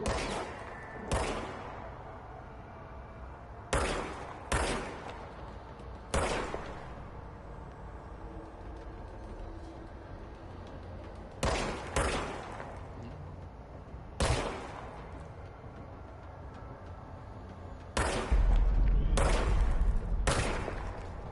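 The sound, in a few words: gunfire from the player's gun in a video game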